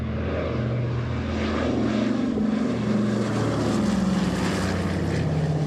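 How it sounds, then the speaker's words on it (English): A Dakota propeller aircraft, the type once used for WWII paratrooper drops, makes a flypast over a ceremony for veterans, giving a loud, steady droning roar that holds throughout with no talk. "a Dakota aircraft performs a flypast"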